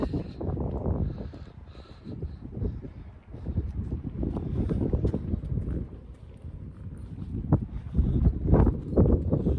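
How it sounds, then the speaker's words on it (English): Gusty wind buffets the microphone high up on Mam Tor, UK, with irregular low rumbling bursts, rising and falling throughout without any voices. "I'm hoping that wind's dying down now because we're high up again."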